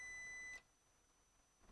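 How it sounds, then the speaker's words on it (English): A single electronic beep from a continuity tester checking a circuit while building a portable smoke machine, a steady tone lasting about half a second and then stopping, leaving quiet room noise. "If I do it this way, it makes beep."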